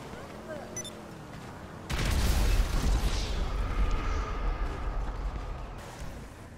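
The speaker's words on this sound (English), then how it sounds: "Shooting flares at cops." Flares fired at police in the video game GTA V: a sudden loud burst of rushing, popping fire erupts after a quieter stretch and rolls on with a crackling, fading tail.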